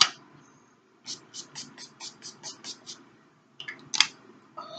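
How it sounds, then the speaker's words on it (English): A quick run of about nine rhythmic spritzes of NYX Dewy Finish setting spray misted onto a face hisses close by, followed after a pause by a few more pumps. "now I'm going to take my NYX Dewy Finish Setting Spray"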